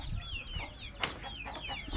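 Chicks clucking and peeping up close while eating out the insides of pumpkins, a busy overlapping stream of high chirps and soft clucks with occasional pecking sounds, moderately quiet and without talk.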